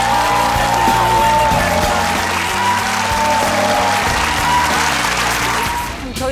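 A theatre audience applauds two musical actors, a dense, loud, sustained wash of clapping that fades slightly at the very end.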